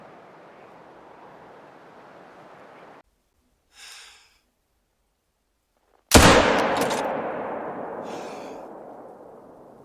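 A single loud, sharp rifle shot in The Hunter: Call of the Wild hunting game, aimed at a lynx, cracks out after quiet outdoor ambience and a faint rustle, then rings into a long decaying echo.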